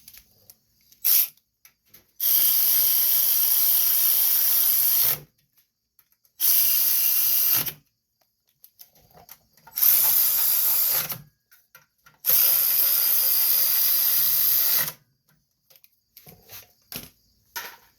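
A ratchet tightens bolts on a Billy Goat walk-behind vacuum's 5.5 horsepower engine, heard up close in four long bursts of rapid clicking with short pauses and faint taps between them.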